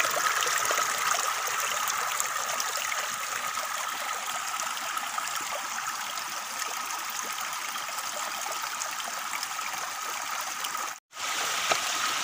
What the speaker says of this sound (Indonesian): air yang keluar dari batu-batu yang membelah